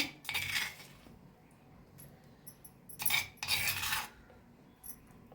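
A spoon scrapes and scoops coarse, rustic village-style red chilli thecha into a small bowl, giving a few brief metallic clinks and scraping bursts separated by quiet pauses.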